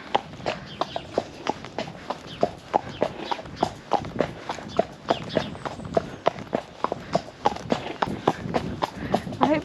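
Horse hooves clip-clop in a steady, brisk rhythm while a rider is mounted, the hoofbeats close and clear throughout.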